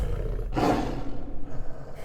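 A lion in Africa lets out one deep, guttural roar, a single close, loud burst of under a second against a low rumbling background.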